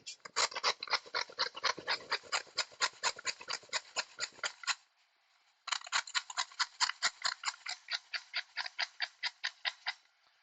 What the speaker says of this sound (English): I'm just going to grate some carrot